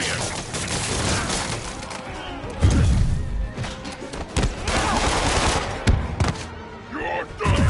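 Enemy thugs fire guns at Spider-Man in the PS4 game, with bursts of rapid gunfire, thuds and cracks of combat, and voices shouting over the shooting.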